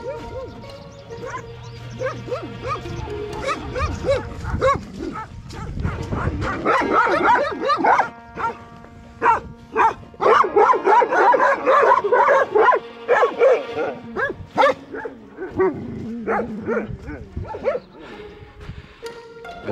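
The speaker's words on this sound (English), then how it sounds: "here come the dogs" Several dogs bark, yip and whimper close by as they follow a runner along a country road in Georgia, loud irregular bursts overlapping one another, with some brief talk early on.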